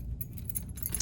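A keychain loaded with a house key, an Apple AirTag and van keys jangles close up, a bright metallic rattle of several quick clinks over about a second, with no voices.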